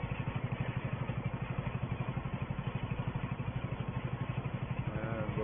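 A 1960s Porsche tractor rolls grassland at Attingham Park, its small engine chugging in a fast, even rhythm of regular puttering beats, steady and moderately close with no voices.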